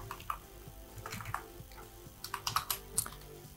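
Computer keys clack as someone types an animation expression, a quick irregular run of light taps up close that grows busier toward the end, with no voices.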